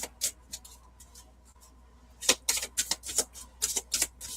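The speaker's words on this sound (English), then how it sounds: "Just give this a good shuffle" Quick papery riffles and taps of tarot cards being shuffled, a few sparse flicks then a rapid burst of shuffling close by.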